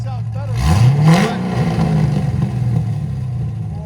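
A 2008 Chevy Corvette Z06 with a 7.0L V8, long-tube headers and a Kooks shotgun cat-back exhaust revs up sharply, then holds a loud, throaty, slightly lumpy drone close by before settling.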